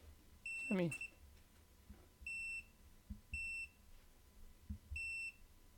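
A pocket multimeter gives four short, clear, high-pitched continuity beeps held close to the microphone, spaced about a second apart, with faint handling clicks and a brief voice between them.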